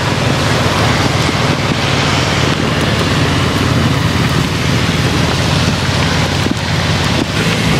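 Heavy nonstop rain pours down over flood water in Mindoro, a loud, dense, unbroken roar of rain and wind.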